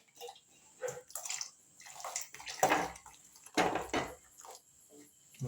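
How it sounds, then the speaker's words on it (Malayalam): Water is poured at home in several short, quiet splashing bursts, with faint clinks of dishes between them. "വെള്ളം ഒഴിക്കട്ടെ?"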